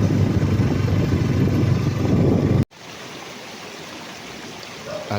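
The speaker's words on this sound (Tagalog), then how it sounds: "nakarating na tayo dito sa tinatawag nila na roadside waterfalls or batis" Water rushes loudly in a steady roar, then abruptly drops to a softer, continuous flowing sound of a roadside waterfall and stream nearby.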